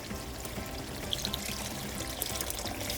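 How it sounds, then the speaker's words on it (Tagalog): Steady pouring water splashing into a pan of cooking ground pork, a continuous close-up rush with small droplet sounds throughout. "Kaya nilalagyan natin ito ng tubig."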